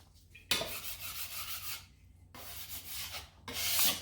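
Olive bread dough being rolled on a heavily floured surface, giving soft, repeated rubbing and scraping strokes close by in a few separate passes.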